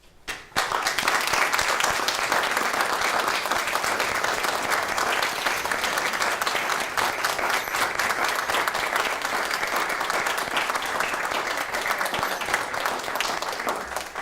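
Sustained, steady applause from a large room of attendees at a police Do the Right Thing award ceremony, honoring the winners' parents, guardians and family, dense and even throughout with no talking.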